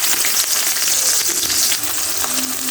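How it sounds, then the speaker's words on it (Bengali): Chopped onion frying in hot oil for a chepa shutki (fermented dried fish) dish: a steady, bright sizzle close by, hissing evenly throughout. "তো আমার তেলটা অলরেডি গরম হয়ে গেছে, আমি দিয়ে দিচ্ছি পেঁয়াজ কুচি"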